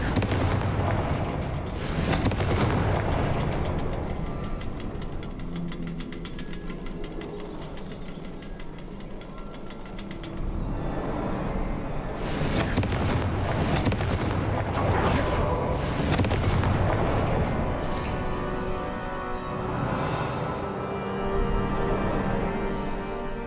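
Confringo blasting spells exploding repeatedly in the video game Hogwarts Legacy, a dense run of loud booming bursts and crackling impacts layered over game noise with barely a pause.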